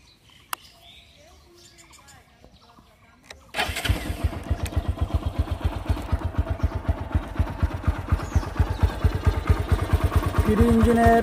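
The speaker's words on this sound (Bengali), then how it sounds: "ফ্রি ইঞ্জিনের সাউন্ড, ফ্রি সাইলেন্সারে।" A 2020 TVS Apache RTR 160 4V motorcycle with a free-flow silencer starts up after a quiet stretch and settles into a loud, steady, rapid idle pulse close by, rising slightly toward the end.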